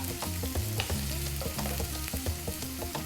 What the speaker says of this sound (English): A few seconds, then in goes the onion. On a nice high heat.